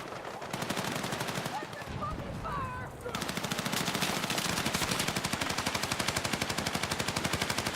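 Gunfire in the video game Battlefield 6, rapid continuous automatic bursts rattling loudly up close with a short break partway, other shots and effects layered in.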